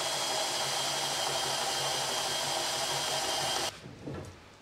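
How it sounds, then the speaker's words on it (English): A power sander works the edges of a wooden deckchair part, a steady loud whine running continuously for several seconds before cutting off abruptly, followed by a brief clatter. "I'll put that on the bandsaw and I'll quickly sand those edges off"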